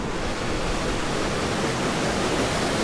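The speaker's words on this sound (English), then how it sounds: "You got this nice pool, you got the waterfall right here." The waterfall at Seven Falls in Murray Canyon pours into a pool with a steady, loud, broadband rush of falling water, close by and continuous, with no talk.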